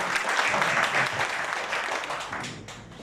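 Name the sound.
audience applause for two people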